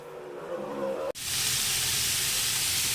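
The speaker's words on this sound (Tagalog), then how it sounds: "ginisa na natin yung ating sayote. Ginisa natin sa bawang, sibuyas, at sayote." Chayote sautéed with garlic and onion in a pan, starting as a low bubbling sizzle before a sudden drop, then bursting into a loud, steady, steam-like hiss as the vegetables hit the hot oil.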